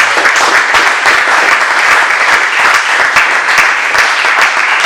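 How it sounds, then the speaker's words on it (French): A dense, loud crowd applauds graduating Bible school students, the clapping a thick, even roar that holds steady from start to finish. "Est-ce qu'on peut donner une fois d'acclamation pour eux?"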